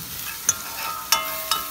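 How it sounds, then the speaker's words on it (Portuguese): Garlic frying in a pan for a chicken pie filling, a soft continuous sizzle punctuated by three sharp scraping stirs, close and fairly quiet, no talking. "Estou aqui fritando os alhos, ó."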